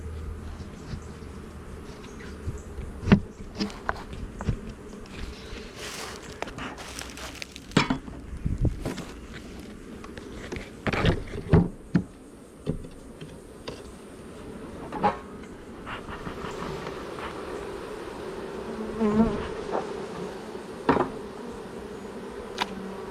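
Honey bees buzz around an open beehive at a waterfront apiary, a steady low droning hum under scattered close knocks and clatters from handling hive parts, with no talk.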